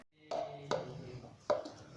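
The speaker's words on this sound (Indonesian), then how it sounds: "Bisa banting-banting adonan seperti ini agar lebih lentur dan mudah diuleni" Milk bun dough is slapped down hard three times, each a dull thud with a brief gap between, in a quiet room.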